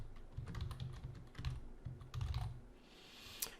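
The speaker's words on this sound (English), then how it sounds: "I'm gonna type the name of the business." Quiet rapid clicking of keys on a computer keyboard while a business name is entered, an uneven run of soft taps close by.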